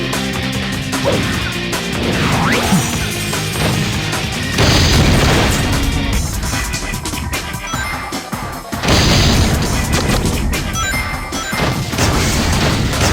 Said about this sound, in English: The Shadow Android's standard armament includes a very relentless lock-on missile.